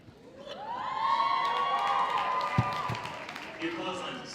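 Graduation audience at the AHS 2013 ceremony cheering, whooping and clapping, a swelling crowd roar with bright shouts on top, steady for several seconds with a couple of sharp claps and a brief voice near the end.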